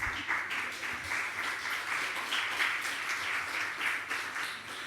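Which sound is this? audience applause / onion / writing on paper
audience applause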